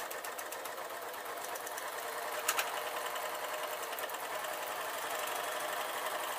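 A sewing machine sews an off the shoulder dress in one continuous, fast, even run, a close buzzing chatter with a small knock partway through and no talking.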